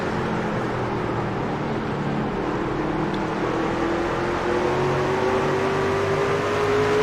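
Racing truck engines from an esports truck racing game at North Wilkesboro drone continuously with a steady whine that climbs gradually, dense and even with no talking over it.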